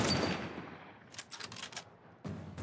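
Sniper rifle gunfire in The Last of Us Part 1 is fairly faint: a booming shot decays away, then comes a quick cluster of short cracking bursts, then another heavy blast.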